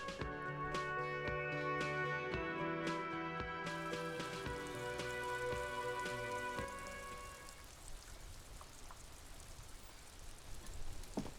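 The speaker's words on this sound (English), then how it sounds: "Still such enjoyable rain noise." Steady rainfall patters on a surface in the video game Disco Elysium, at first mixed with a tonal musical layer that fades out, leaving the rain alone and fairly quiet.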